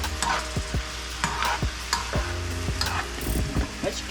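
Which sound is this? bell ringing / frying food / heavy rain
frying food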